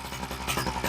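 A small two-stroke Poulan hedge trimmer engine idling after a hard start, a steady buzzing putter heard up close and alone for about a second.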